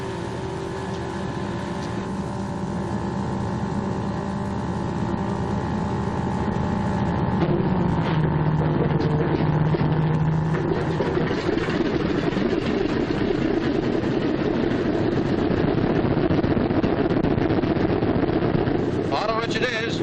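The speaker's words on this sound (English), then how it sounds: "I'm going to start the left engine first." A B-26 bomber's left engine starts up and runs, a broad rumbling roar that swells after a few seconds and holds steady, heard with a faint engine-like drone and no talk over it.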